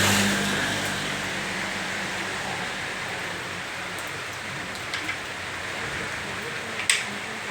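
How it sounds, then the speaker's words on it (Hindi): Heavy rain pours down steadily outside a servicing shop, a dense unbroken hiss that stays close and loud throughout, with a couple of faint knocks partway through. "पानी भी झमाझम गिर रहा है"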